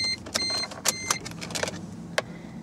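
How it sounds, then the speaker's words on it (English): Ignition being switched on in a Suzuki Splash: a series of sharp clicks and relay ticks, with short electronic warning chimes sounding between them inside the quiet car. "If I just put the ignition on now,"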